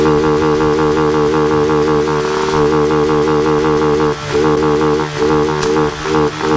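A Honda Titan KS 125 motorcycle engine revs hard against a competition CDI rev limiter, its loud steady buzzing drone broken by several abrupt cut-outs and stutters near the end.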